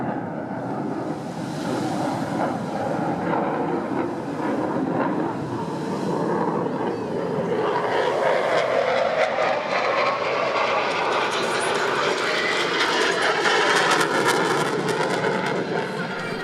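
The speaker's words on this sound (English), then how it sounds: "This is the Pacific Air Force F-16 demo team based in Japan." A Pacific Air Forces F-16 fighter jet from the demo team based in Japan flies at the Singapore Airshow 2016, a continuous loud, rushing roar that swells and holds for the whole stretch.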